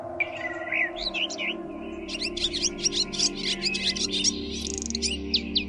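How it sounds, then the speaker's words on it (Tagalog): Various birds chirp and tweet in a rural countryside morning, a dense chorus of quick calls over a steady low hum, with a rooster's crow not clearly standing out. "kasabay ng tilaok ng manok at huni ng iba't ibang ibon, mga tipikal na tunog sa umaga sa probinsya."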